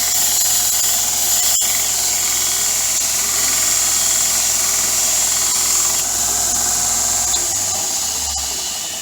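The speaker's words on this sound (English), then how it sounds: "we're going to go over here and smooth it out on the sander" A power sander runs continuously and loudly up close, grinding a taper into a metal worm shaft, its steady high-pitched whine holding with slight variation until it winds down near the end.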